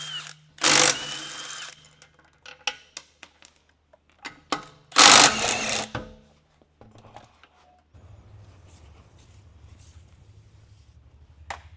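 An impact wrench on the wheel of a BMW F82 M4 fires two loud, buzzing bursts, with clinks and metallic rattles between them, followed by a quieter low hum.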